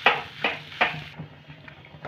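A pan-fry of a boiled medium potato in a rohu fish-finger filling: three quick scraping strokes of a spatula against the pan, then softer stirring, close and alone.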